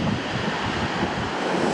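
A waterfall in Iceland pours into its own chasm, a dense, loud, unbroken roar of rushing water mixed with gusty wind buffeting the microphone, heard without voices.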